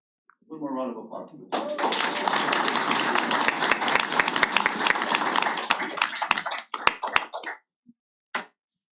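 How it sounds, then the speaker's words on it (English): A round of applause at a school board of education meeting: many hands clapping for several seconds, thinning into scattered individual claps before stopping, with a brief voice just before it begins. "One more round of applause."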